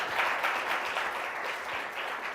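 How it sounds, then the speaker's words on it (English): Steady audience applause at a conference session after a round of presentations, a continuous wash of many hands clapping at moderate distance, fairly soft and even throughout. "let's give a round of applause for all of the presentations"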